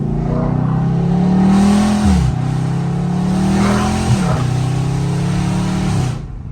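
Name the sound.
car engine revving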